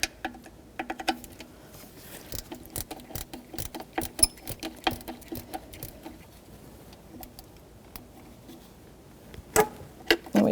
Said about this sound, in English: I'm going to get my 10mm socket and ratchet, snug it up.